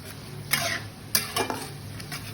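Ginger and garlic frying in a pan for tehari, a steady close sizzle with a few sharp stirring scrapes and utensil clinks across a couple of seconds.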